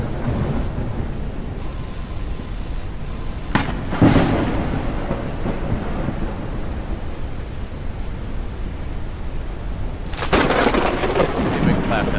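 Thunderstorm in the Forever Skies game: a steady wash of heavy rain with two loud thunder cracks rolling through, one early and one late, with no talk.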